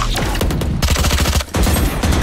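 Dense gunfire from the video game Valorant comes in rapid bursts of repeated shots that land close and loud, with brief gaps between volleys.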